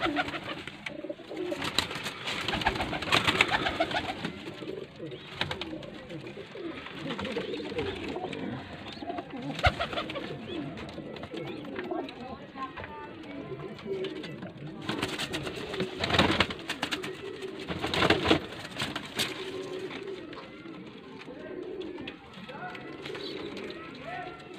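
A racing pigeon coos repeatedly in a loft, low burbling calls mixed with fluttering and shuffling, while people talk nearby throughout.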